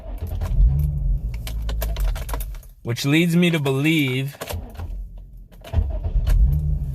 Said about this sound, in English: sounds like the starter's not engaging properly